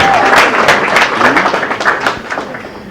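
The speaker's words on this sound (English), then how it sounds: "And I'd like to give you an applause." An audience breaks into applause at a charity event: dense, bright clapping that starts strong and gradually thins out, with a faint voice in the background.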